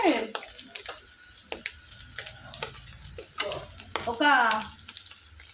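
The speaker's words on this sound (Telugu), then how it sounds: "చిట్టపట్టం అనేటట్టు ఫ్రై అయింది ఫ్రెండ్స్" Goat tripe (boti) crackling as it fries in a pan, with bursts of sizzle and spatula scrapes against the metal, close by, plus a brief watery splash near the end; no one speaks.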